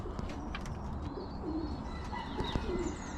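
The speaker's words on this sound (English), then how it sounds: "Here's my new little pigeons I got." Several pigeons, about seven to nine, coo softly inside a pen, a low, murmuring burble with occasional faint chirps over steady background noise.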